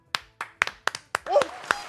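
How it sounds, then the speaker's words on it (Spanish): Hands clap in a quick uneven run of about eight sharp claps at a birthday gathering, close and loud, with a voice briefly calling out over the last claps. "¡Aplaude!"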